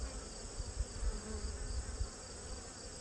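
Honey bees crowd a brood frame in a fall hive that is trying to swarm, their steady buzzing hum close to the microphone with low rumbling handling bumps underneath.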